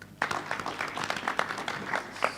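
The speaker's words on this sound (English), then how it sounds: "a more hearty clap." A short burst of applause from a modest crowd, irregular claps spattering across a couple of seconds without talk.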